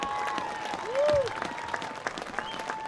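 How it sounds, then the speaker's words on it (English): Crowd applause at a Thanksgiving high school football game, a continuous spread of clapping across the stands with a brief rising tone and scattered whistles over it. "How about a round of applause for Mr. Lloyd Hill?"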